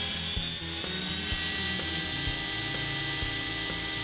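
A Trex 450 RC helicopter spinning up at quarter throttle gives a loud, steady, high-pitched motor whine with a fast rotor chop underneath, close and continuous.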